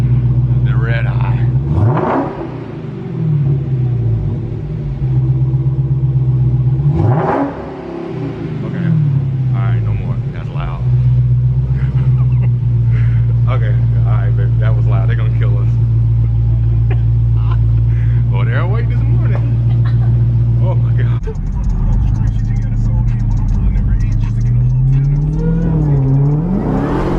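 A 2019 Dodge Challenger Widebody Hellcat Redeye rumbles deeply from inside the cabin while driving, with repeated rising revs and swells in engine note over a steady low drone, and people talking over it.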